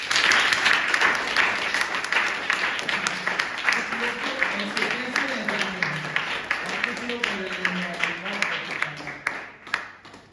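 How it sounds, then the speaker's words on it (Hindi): A classroom audience claps at a teacher's request, a loud burst of applause that thins into scattered, rhythmic clapping and fades, with voices talking underneath. "वे ताली बजाओ बस।"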